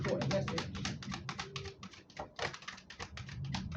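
Close, rapid riffling and flicking of a tarot deck being shuffled, in dense quick bursts with brief pauses, and a voice speaking faintly underneath.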